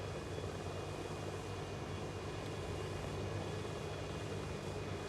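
A helicopter takes off for a short flight, its engine and rotor forming a steady, loud, continuous roar with a faint high whine, unbroken throughout and without talk.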